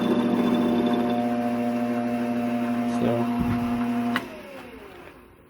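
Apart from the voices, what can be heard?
metal lathe cutting with a high-speed steel cutter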